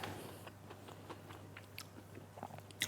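Crunching bites into crisp tempura-battered fried chicken nuggets: a string of sharp, dry crackles close to the mic over steady background hum, ending in a louder crunch.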